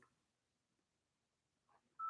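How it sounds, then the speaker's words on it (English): A few faint short electronic tones from a phone, then a sharp, louder steady beep at the end, in an otherwise quiet room. "I got to turn this off because it will keep beeping."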